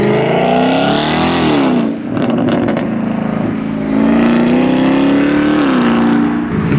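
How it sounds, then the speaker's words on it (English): A Chevrolet LT1 Camaro drives off a trailer at a car meet, its engine loud and close with a steady low rumble that swells and dips as the throttle changes, a brief lift near the middle, then a rising rev. "Got the LT1 Camaro rolling out."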